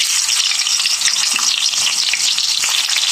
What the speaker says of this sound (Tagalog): Yan na natin ang mantika. Ilagay na natin yung hotdog.